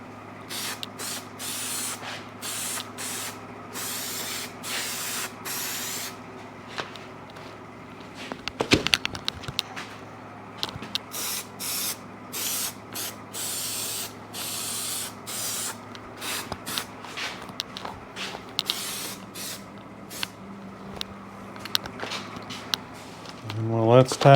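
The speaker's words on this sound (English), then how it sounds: "we'll just spray the whole thing down" Adhesive is sprayed onto a Suzuki TS-250 motorcycle seat in repeated hissing bursts of varying length, close and fairly loud, with brief pauses and a few handling knocks between them.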